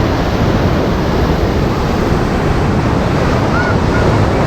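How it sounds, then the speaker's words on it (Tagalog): Heavy surf crashes and roars continuously nearby at Baler, mixed with strong wind buffeting the microphone. "Ang lakas ng alon, no?"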